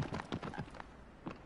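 A quick, faint run of horse hooves clopping in the video game Shadow of the Colossus, several rapid beats close together, then a pause and one more soft clop.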